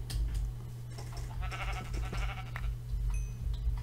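Sheep being slaughtered in Minecraft, with short bleating bursts heard over a loud, steady low hum and scattered game effects.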